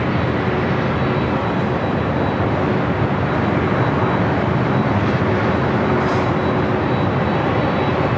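An aircraft at LAX airport roars continuously at close range for several seconds, a broad, loud engine rumble that holds steady throughout with no voices.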